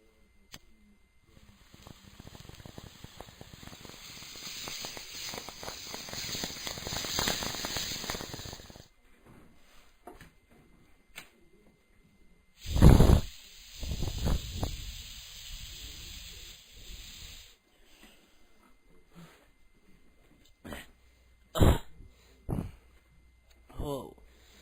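Long hissing exhales of weed smoke forced through a homemade muffler filter, a breathy rushing puff lasting several seconds followed by softer sputtering bursts and a few sharp clicks, close to the microphone.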